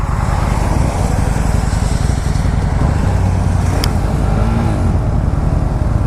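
A Kawasaki Vulcan 900 motorcycle engine runs with a steady, loud, close throbbing drone for several seconds, holding an even level with no clear surge in revs.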